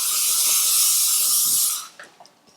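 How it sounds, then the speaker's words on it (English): An aerosol can of hairspray sprays in one steady, loud hissing burst lasting under two seconds, then cuts off, leaving a few faint small handling clicks. "And then just hairspray."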